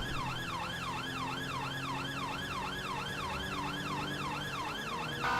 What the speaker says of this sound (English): Going to change the siren tones at this point.